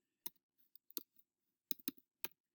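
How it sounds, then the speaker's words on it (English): Sparse clicks from typing on a computer keyboard, a few isolated keystrokes and then a quick cluster, crisp and quiet with silence between them. "I'm typing it."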